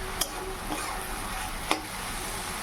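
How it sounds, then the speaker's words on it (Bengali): Potatoes fry with black cumin and dried chilli in oil on a home stove, giving a steady, quiet sizzle with a few faint clicks of a utensil. "এই উনানে দেখো চাপিয়েছি বটবটি আলু ভাজা, কালো জিরে শুকনো লঙ্কা ফোড়ন দিয়ে"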